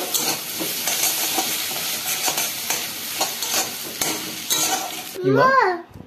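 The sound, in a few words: cumin being added and frying in a pan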